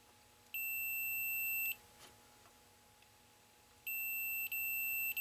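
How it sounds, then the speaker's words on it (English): A multimeter's continuity tester gives two steady, high-pitched beeps, each lasting about a second with a gap between, while checking shorted capacitors on a 1983 Bally Midway Domino Man arcade circuit board; it is quiet and close, with no talking. "The telltale beep"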